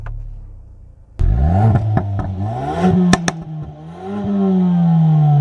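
A 2019 Ford Focus ST's 2.3 litre EcoBoost engine starts up close with a sudden loud crank and catch, then a throaty rev that rises, dips and settles into a steady, strong idle.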